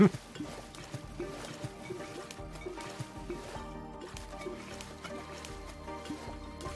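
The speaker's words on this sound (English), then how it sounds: "Splashing like there's some massive animal in the waterfall or something." Continuous splashing and sloshing water at a waterfall in a video game, a busy steady wash with small drips and bubbling, moderately loud and even throughout.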